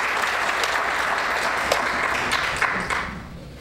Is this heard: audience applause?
yes